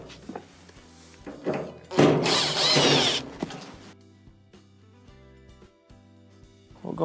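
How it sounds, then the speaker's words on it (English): A power drill backs two Phillips screws out of a clothes dryer panel, with a loud whirring burst of about a second, then clicks, clunks and quieter handling sounds of parts being moved. "Remove the 2 Phillips screws."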